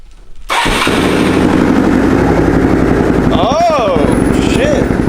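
A Suzuki DRZ motorcycle fitted with a new exhaust fires up after a brief moment of quiet, then settles into a loud, close, rapid-fire idle with sharp popping pulses and a couple of quick throttle blips.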